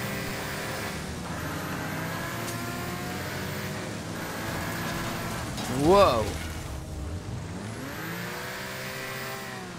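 A car engine revs in the demolition racing game Wreckfest, its droning, shifting pitch running throughout, with a sudden louder burst of impact midway, followed by a man's short exclamation.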